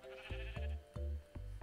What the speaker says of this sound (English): I can't believe I found a pink sheep.